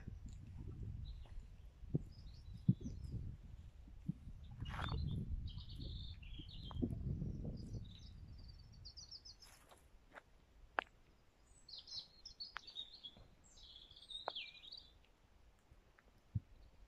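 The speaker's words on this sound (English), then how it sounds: "you only can hear the bird chirping" Faint birds chirping in short scattered calls over a quiet outdoor background with low rumbling, no voices.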